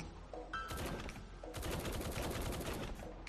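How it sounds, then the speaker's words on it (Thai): Gunfire in the Roblox War Tycoon battle game, fairly faint and distant-sounding, with a few scattered shots followed by a sustained rapid burst of automatic fire. "รู้สึกว่าด้านนั้นเขายิงกันหรือเปล่าวะ"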